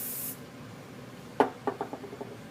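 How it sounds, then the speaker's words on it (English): A short hiss of hairspray sprayed onto styled hair opens the clip, followed by soft close brushing and rubbing sounds, quiet and without talk. "Spray."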